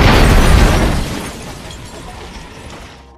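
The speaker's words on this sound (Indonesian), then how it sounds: "Lalu Jimmy pun meledakkan sebuah bom yang selama ini ia simpan di rumah rahasianya." A bomb explodes in an action film: a loud deep boom with a debris-scattering rumble that fades out over about three seconds.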